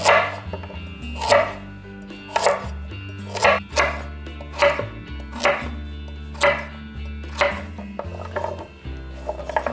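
A knife chops carrot ends into small rounds on a cutting board, about ten crisp, evenly spaced taps close up, with a low steady hum underneath.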